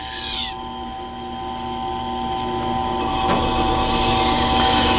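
Kitchen knife pressed against the turning stone wheel of a Tormek T-2 Pro sharpener, giving a steady close grinding whir under a constant motor hum that swells slightly louder toward the end.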